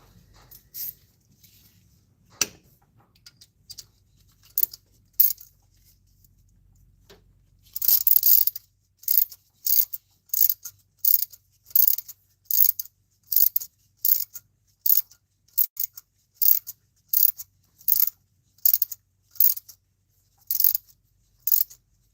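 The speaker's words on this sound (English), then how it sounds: "That ratchet in there." A ratchet clicks in quick repeated bursts, turning a head stud on a 96-05 Chevy Astro engine in a cramped bay behind the AC compressor. The clicking is sparse at first, then settles into a steady run of short, crisp strokes.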